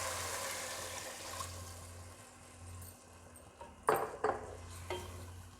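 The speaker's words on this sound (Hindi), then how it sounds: "अब इसमें पानी डाल देते हैं।" Water is poured into a cooking pot over browned potatoes for aloo pulao, a steady wash of splashing and sizzle with a couple of sharper bursts near the end.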